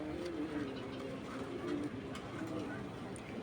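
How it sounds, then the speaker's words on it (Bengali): Female pigeon of a foreign racer breed making low cooing sounds, steady through a continuous bed of background noise with someone talking over it. "এটা মাদি কবুতর ভাই"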